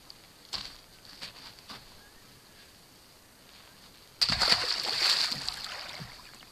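A creature is set back into the water at Blue Rock Lake in Gippsland, making a sudden close splash followed by a few seconds of sloshing. Quiet outdoor ambience with faint taps comes before it.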